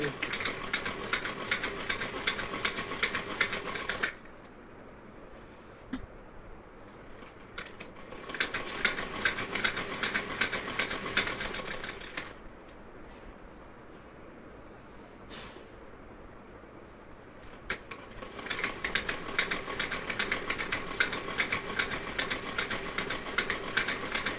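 Pillow covers being stitched on a sewing machine, with bursts of rapid, steady mechanical clatter that stop for quiet pauses and then start again, fairly close and with no talk over it.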